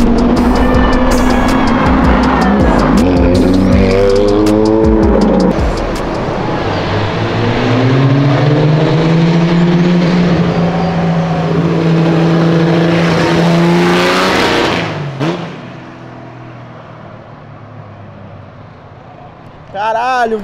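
A Chevrolet Opala engine revs hard and accelerates repeatedly, loud rising and falling engine tones close by, with tyre noise and a sharp drop-off near the end as it passes; voices can be heard over it.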